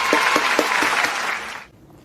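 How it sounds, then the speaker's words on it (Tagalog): A class of children claps together in a short burst of applause, fairly loud and close, for about a second and a half before it stops abruptly, with no talk over it. "tayo lahat ay pumalakpak"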